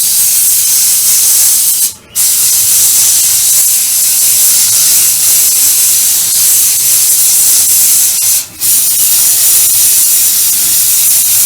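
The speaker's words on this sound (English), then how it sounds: "when you get pretty practiced at airbrushing, you're not really concerned about going too much on the wheels or too much overspray." An airbrush sprays paint onto the wheels of a StuG III Ausf G model tank, giving a loud, continuous airy hiss. Two short breaks split the hiss where the spray stops for a moment.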